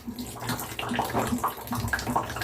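Water pours steadily into a container while an indoor plant is cleaned, a continuous close splashing and trickling with no talk over it.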